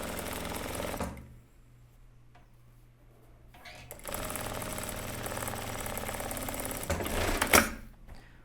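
Sewing machine stitching a seam on a shirt, a close steady run of rapid stitching, a pause of quiet handling, then a second longer burst of stitching.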